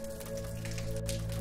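Steady soft rain patters continuously beneath a low, sustained droning tone, with no voices.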